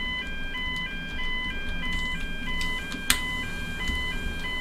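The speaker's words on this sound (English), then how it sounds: "The fire alarm is most awkward." Electronic fire alarm in the Emergency 4 game with the Kent mod, a repeating two-tone beeping pattern cycling steadily and loudly, with a brief click partway through.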